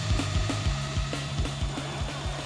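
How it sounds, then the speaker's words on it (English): A powerful maxed-out drill spins a massive top, producing a steady high whir with rhythmic low thumps repeating about every quarter second, loud and continuous with no talk. "We've tried a rope and a drill, but now we have a maxed out drill."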